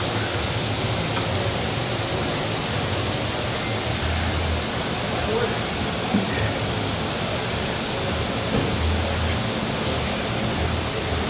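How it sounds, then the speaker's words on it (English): Transmission oil drains from a C8 Corvette into a funnel in a service garage, a steady broadband hiss like a pouring stream that stays constant and moderately loud throughout. "some tranny oil should come down and go right into the funnel"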